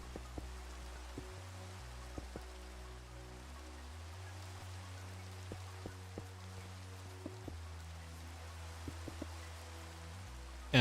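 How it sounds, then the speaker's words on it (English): Soft, steady rain falling in the video game Minecraft, a faint even patter with scattered drip-like taps over a low droning background tone, no voices. "Of course, it starts raining again on us."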